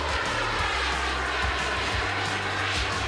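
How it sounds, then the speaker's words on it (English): A jet engine suit in flight during a speed record attempt, heard as a steady, loud roaring engine drone with a low rumbling hum that stays constant throughout, with no voices. "managed to break the record for the fastest speed in a jet engine suit"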